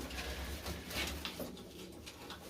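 Pigeons in a loft of more than two hundred long-distance birds give soft, low cooing over a steady background hum, with a few faint fluttering sounds.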